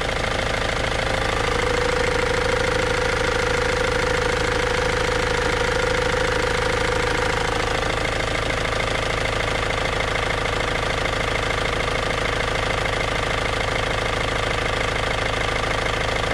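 A Ford Transit van engine idles steadily close by, a continuous rough mechanical drone with a faint knocking rhythm and no talk over it.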